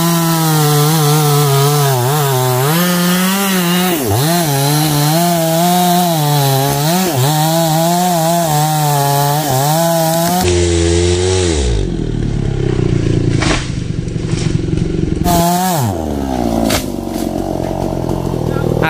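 A chainsaw runs loudly nearby, its engine pitch rising and falling as it bites into wood, then shifting to harsher cutting tones.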